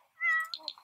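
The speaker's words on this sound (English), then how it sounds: "Play with the cat, of course." A cat in the video game The Sims 4 lets out a single clear meow, a drawn-out tone followed by a couple of short chirping sounds, close and alone with no talk.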